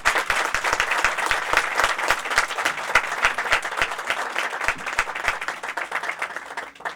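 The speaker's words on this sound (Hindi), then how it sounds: "आइए यीशु मसीह के लिए ताली बजाएं।" A church congregation claps together in a steady, roughly rhythmic burst, many hands close and fairly loud with sharp individual slaps standing out, then tapering slightly toward the end without any talk.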